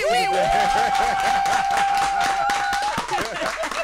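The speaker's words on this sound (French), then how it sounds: "vous applaudissez très fort" An audience claps in a fast, fairly steady rhythm at a comedy show, while a loud sustained voice or tone rises over the hand claps near the front.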